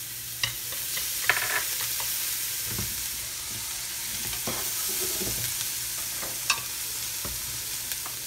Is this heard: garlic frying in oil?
yes